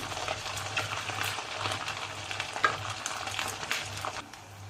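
Semolina (bombay rava) vadas fry in a pan of hot oil, giving a steady, close crackling sizzle with light stirring scrapes and no voices.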